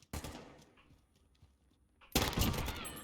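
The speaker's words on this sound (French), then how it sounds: "Tu peux tirer en rafale de 2." Gunfire from a two-round burst weapon during a Warzone tournament final: a sharp, loud burst at the start, a quiet gap of about two seconds, then a second heavy burst that rings on, with no talk.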